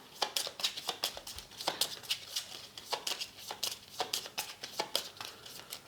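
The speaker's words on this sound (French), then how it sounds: "Je remélange." Playing cards for the Nemesis board game are reshuffled by hand, a quick run of crisp riffling snaps and soft slides repeating close to the microphone with no talking.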